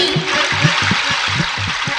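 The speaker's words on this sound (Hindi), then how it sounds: "कहीं झरने झर रहे हैं" Flowing water sound effect at a Ramlila stage play in Orchha: a steady, broad rushing hiss runs throughout, with a rhythmic low-pitched pulsing underneath.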